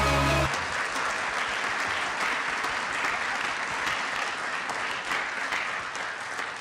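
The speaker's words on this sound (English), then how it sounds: "Let's give them another round of applause." An audience at a city council meeting breaks into sustained applause, a dense wash of clapping that follows a brief tone at the start and carries on evenly to the end.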